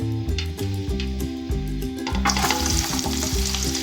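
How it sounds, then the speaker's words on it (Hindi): Onions sizzle in ghee in a large pot, a close crackling fry under a repeating musical backing that grows brighter halfway through. "ये प्याज हमारे भुन रहे हैं।"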